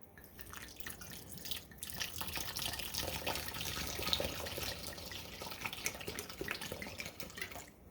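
Wine is poured into a pot of vegetables for a wild venison dish, a steady close trickle and splash of liquid that carries on for several seconds with no voices.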